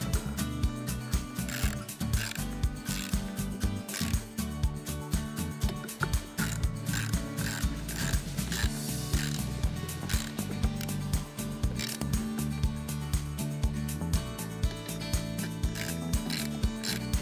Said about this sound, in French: je finalise le serrage à la clé à cliquet de 10